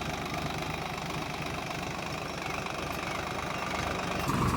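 Tractor engine idling in a farm field, a steady low chugging rumble close by throughout, no one talking.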